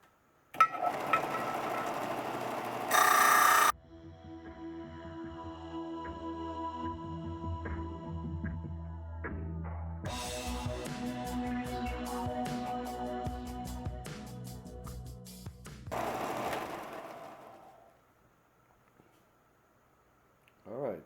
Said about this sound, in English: I decided to come back into the grinder and disc grinder and get some more of this bulk material away